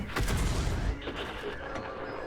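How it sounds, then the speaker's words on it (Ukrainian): Tank gunfire in an arcade battle of a World of Tanks-style game, a T-34 trading shots with a tier-10 Leopard, with loud, dense booming blasts up front that fade into a rumbling, echoing tail. "я на Т-34 е, стріляюся з 10 рівнем з леопардом"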